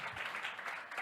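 Brief, quiet clapping from a small audience after an art presentation, soft scattered handclaps lasting about a second.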